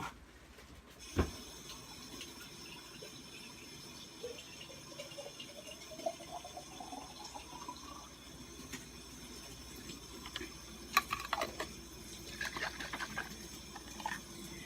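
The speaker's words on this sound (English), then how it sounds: "Now you're going to want to fill the jar of ragu up with water." Water runs from a tap into an empty jar of Ragu spaghetti sauce, a faint trickle whose pitch slowly rises as the jar fills, with clinks and kitchen clatter around it.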